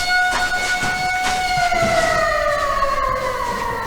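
An air raid siren sounds inside a children's quest room for practicing air alert procedures, a loud steady wail with layered tones that slowly glide downward, continuous and close with no talking.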